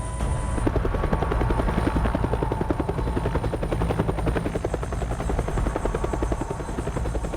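A helicopter flies close by on a ferry run toward a remote ridge used for fossil hunting in Antarctica, its steady rapid rotor chop loud and continuous throughout with a constant engine whine.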